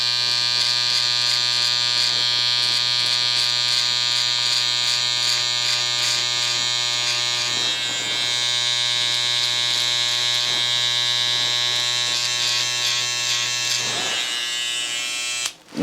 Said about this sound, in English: use the other hand with the clipper to start creating in that guideline